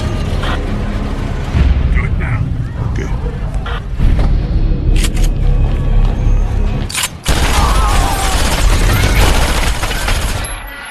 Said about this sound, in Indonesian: terjadilah tembak-menembak